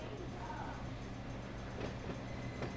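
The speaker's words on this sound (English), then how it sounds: "Decent sized train now that we did all those pickups." Freight train in the Run 8 rail simulator game rolling along with many cars, a continuous low rumble and faint rail noise at moderate level with no talk.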